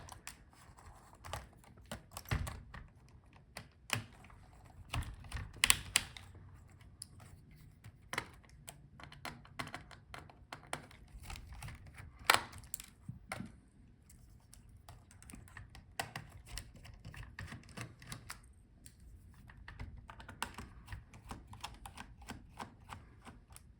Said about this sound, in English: Now let's take out the screws from the keyboard.